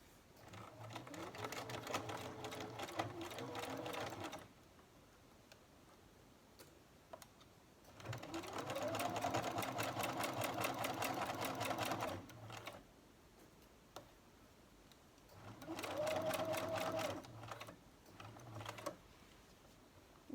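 A domestic sewing machine stitches a trouser hem in three separate runs, each a steady, fast mechanical whirr with rapid ticking, separated by quiet pauses.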